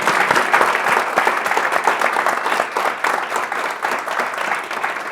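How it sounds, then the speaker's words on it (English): Studio audience giving Ale Bedoya a loud, sustained round of applause, a thick crackle of many hands clapping steadily for five seconds, then slowly tapering. "One more round of applause."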